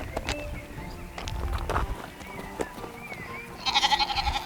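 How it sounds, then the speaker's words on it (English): A lamb bleats in a hillside dale among farm buildings, with several short, wavering cries spread through the clip, followed by a louder burst of higher-pitched calling near the end. "This little sheep has lost its mother."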